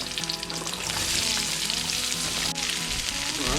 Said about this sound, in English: Go ahead and throw our onions in it.